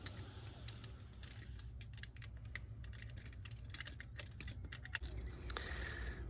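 Two 8mm spanners clink and rattle against bolts while tightening a fire extinguisher bracket in an Isuzu NPS, a quiet, irregular series of metallic taps and jangles close by.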